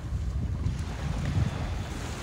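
Ocean surf rolls in on a beach with wind buffeting the microphone, a steady low rush of water and wind throughout with no voices.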